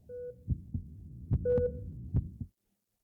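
Heart rate monitor sounds in the video game OMORI: a slow series of soft thumping heartbeats, about six pulses at uneven spacing, joined by brief electronic beep tones, ending in silence.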